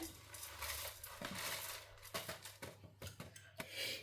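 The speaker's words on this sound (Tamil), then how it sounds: "இந்த அரிசியை வந்து நான் மிக்சி ஜாரில் போட்டுக்கொள்ளுறேன்" Washed, drained rice tipped into a mixer grinder jar, giving dry rattling clatters and scattering grain sounds with a sharp knock of the jar, close and fairly loud, with no talking, while making traditional Sri Lankan Aadi koozh.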